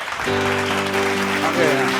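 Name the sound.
applause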